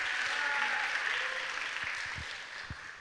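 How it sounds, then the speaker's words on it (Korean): Brief, fading applause from a congregation at a church youth worship service, a soft wash of many hands clapping with a few low thumps underneath. "박수 한번 다시 부탁드리겠습니다"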